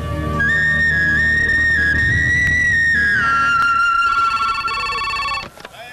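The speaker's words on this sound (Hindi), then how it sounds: "सलीम भाई आपका फोन।" A loud electronic telephone ring plays a sustained warbling tone that shifts pitch, then cuts off abruptly near the end.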